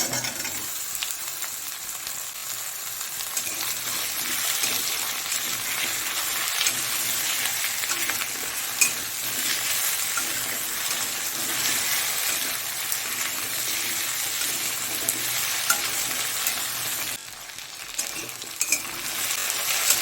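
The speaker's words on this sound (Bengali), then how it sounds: "এবার এগুলোকেও একসঙ্গে ভেজে নেব" Constant crackling sizzle of potatoes and taro frying in oil, with occasional scrapes of a utensil stirring the pan, close by and steady throughout.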